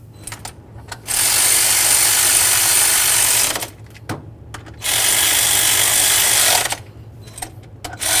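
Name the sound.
tightening power steering pump bracket bolts on Chevrolet Silverado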